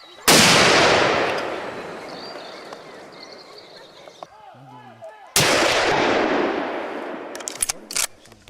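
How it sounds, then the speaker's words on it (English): Two loud, sharp rifle-like blasts during a boar hunt, each decaying over a few seconds, with a brief spoken passage between them. "snapped the rifle to his shoulder and squeezed one clean shot"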